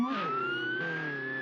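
Police car siren in the Roblox Jailbreak video game, a steady rising electronic wail that sounds close and loud, alone with no talk over it.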